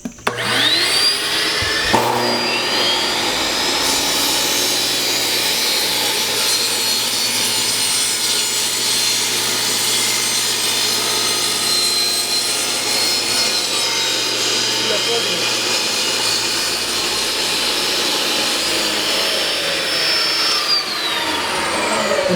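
A saw cuts a miter through wood for an art frame while a shop vacuum runs, the two making a loud, sustained whine and rasp that holds steady for about twenty seconds before winding down.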